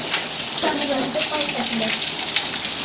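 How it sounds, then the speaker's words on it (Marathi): Steady rain patters and hisses close by, with a faint voice murmuring briefly underneath. "बाहेर पाऊस किती पडतोय बघ"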